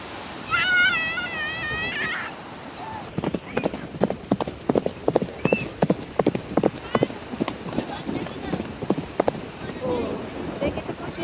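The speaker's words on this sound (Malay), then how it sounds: "Oh, dia kereta kuda." Horse hooves clip-clopping at a steady trot as a horse-drawn carriage passes on a beach outing at Pantai Sepat, Kuantan, fairly close, with people chatting and a bird chirping early on.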